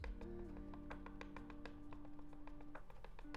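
Soft, quick tapping of a rubber stamp on an ink pad repeats steadily close by, a light rapid patter of small impacts over a faint background hum.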